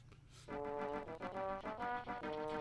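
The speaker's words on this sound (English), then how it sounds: "you can hear a faraway call of an engine whistle." A steam engine whistle from a Thomas the Tank Engine video game sounds in a series of chords, several distinct blasts with short gaps, moderately faint and alone.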